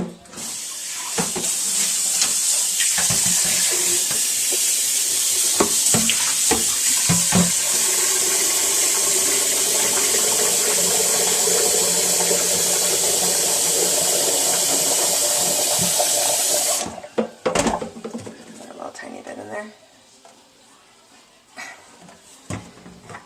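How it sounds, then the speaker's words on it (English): Hot water from a tap pours steadily into a Vitamix blender jar, a loud continuous rushing hiss for about seventeen seconds that then cuts off, followed by faint handling clatter. "just fill it up with hot water and a little tiny bit of soap."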